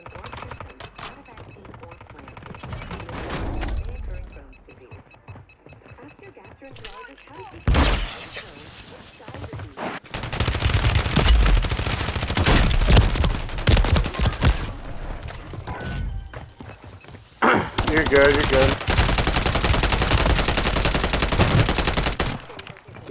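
Rapid automatic gunfire in the Call of Duty Plunder mode, quiet and sparse at first, then long loud sustained bursts with crackling impacts, separated by a brief pause.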